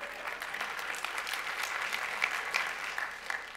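Audience applause at a talk by an AI company CEO: a steady, fairly distant wash of clapping from a crowd, sustained evenly with a few sharper individual claps standing out.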